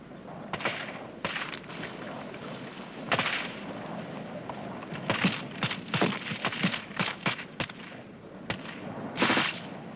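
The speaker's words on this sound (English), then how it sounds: "Rifle group, rapid fire!" Rifle group firing rapidly during infantry fire-and-maneuver training, with sharp distant gunshots in irregular bursts, some single cracks and some quick clusters, over a faint outdoor background.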